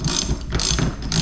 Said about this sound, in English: wrench again, and then we're going to tighten this the rest of the way